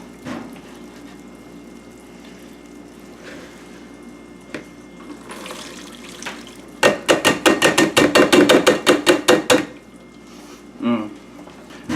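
Chai creme brulee custard mix is poured through a metal strainer into a bowl with a soft liquid trickle, then a quick run of sharp metallic clinks as the strainer is tapped against the bowl.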